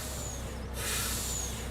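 Tractor air brakes in Farming Simulator 19 on a South Brazilian map release a steady hiss of rushing air over a low engine drone, the burst swelling after a short gap and holding to the end.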